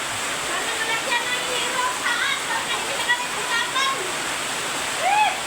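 Heavy rain pours onto a holed nipa roof and leaks through it in a dense, continuous roar of water, with splashes and drips standing out and faint voices beneath.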